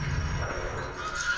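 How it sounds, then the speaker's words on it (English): Horses neigh and whinny in an episode of The Walking Dead, a short, loud, high, wavering cry over low rumbling with faint hoof clatter, and no talk. "Oh, there go the horses."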